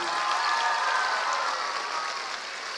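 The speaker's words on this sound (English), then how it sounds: "Big round of applause to those parents." Sustained applause from a theatre audience at a youth production of Matilda the Musical Jr in Dubai, a dense wash of many hands clapping at once, steady and fairly loud throughout.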